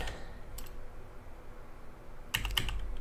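Quiet keystrokes as a terminal command is typed on a computer keyboard, a single click early on and then a short cluster of clicks near the end over a low background hum.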